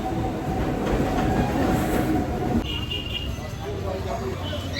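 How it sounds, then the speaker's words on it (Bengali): A passing train rumbles by close at hand with a steady clatter of wheels and carriages, loud at first and then thinning as it moves on. "একটা ট্রেন যাচ্ছে, কি ভালো লাগে এগুলো দেখতে আমার।"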